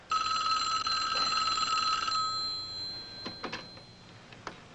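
An old-style telephone bell at a fire department rings loudly in a continuous trill for about two seconds and then stops, leaving a few scattered clicks and handling noises.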